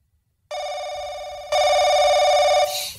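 A telephone rings in a room, a steady electronic ring tone that begins after a brief silence, grows louder midway and runs on for about two seconds, with no talk over it.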